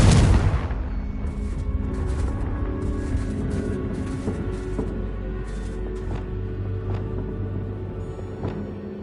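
Bombarda and Confringo spell blasts in Hogwarts Legacy: a heavy booming explosion up front, then a rumbling tail with scattered crackling pops and debris over a low drone.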